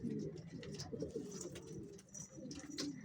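Pigeons coo steadily inside a pigeon loft, with soft overlapping calls close by and a continuous low murmur of birds throughout.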